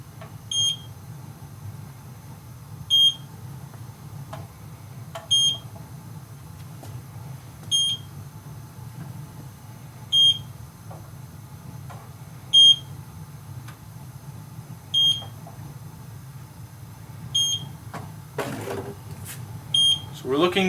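Short, high electronic beeps from an E Instruments Model 7899 gas leak detector, ready to test, repeat at a steady pace, roughly every two and a half seconds, over a low background hum.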